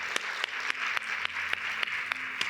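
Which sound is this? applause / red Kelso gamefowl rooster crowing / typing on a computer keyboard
applause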